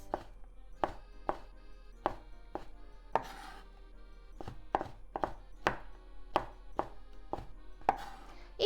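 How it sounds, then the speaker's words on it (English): A knife cuts chikuwa, a tube-shaped fish cake, into thin diagonal slices on a cutting board. About fifteen crisp, close knocks come at an uneven steady pace against a quiet background. "Let's make thin diagonal slices"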